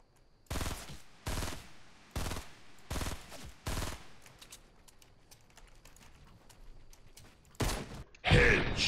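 Fortnite Battle Royale video game gunfire: five loud, evenly spaced single shots in the first four seconds, then a quieter stretch of game ambience, with a couple more bursts near the end.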